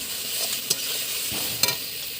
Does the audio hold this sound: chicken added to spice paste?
yes